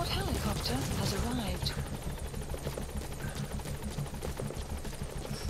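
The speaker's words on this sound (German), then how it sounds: "Oh Gott, der Hubschrauber wird unter Beschuss genommen." A helicopter in the video game Metal Gear Solid 5 comes under fire at a landing zone, its low rotor drone and thudding blades running steadily beneath scattered gunfire and other game effects while someone talks over it.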